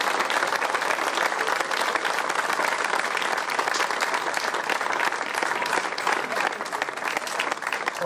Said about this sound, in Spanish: Vamos pedir un aplauso para toda esta xente